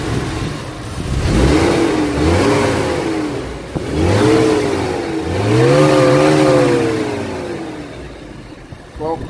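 After a main and connecting rod bearing replacement, a car engine is heard up close, revving up and down in several rising and falling swells.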